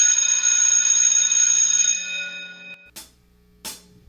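A school bell rings out loud and sustained at the end of class, then stops abruptly, followed by two short sharp knocks or clatters in the quiet.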